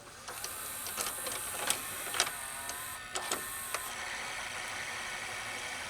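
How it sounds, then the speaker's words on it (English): A Daytron VCR-32DAU VCR in play mode with a suspected mode switch fault gives a steady mechanical whir with a high electronic whine, broken by a few brief clicks and clunks from the transport, close and moderately quiet. "The sound that it makes is a little different."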